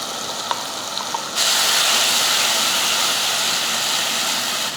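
Ground masala paste for a Tamil fish kulambu hits hot oil and breaks into a loud, steady sizzling hiss that jumps up abruptly partway through and stays constant, with no talk.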